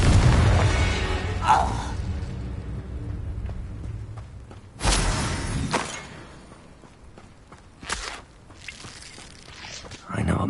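Fiery explosive bursts of the Confringo spell in Hogwarts Legacy, several booming blasts spaced across the scene amid game ambience, with a loud impact near the start and others around the middle and end.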